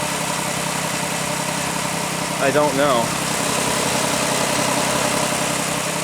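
A Pontiac Aztek engine idles with a steady, buzzy drone and a ticking exhaust manifold leak up front, a voice briefly speaking over it partway through.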